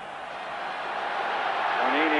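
Football stadium crowd at a 1983 European Cup match between Hamburg and Juventus, a broad steady roar that swells slightly toward the end, with no distinct voices standing out.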